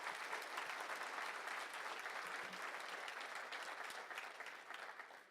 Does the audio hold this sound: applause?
yes